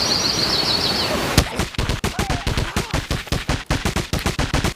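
Rapid automatic gunfire from a video game weapon, a loud, fast string of evenly spaced shots after a brief quieter lead-in with faint chirping.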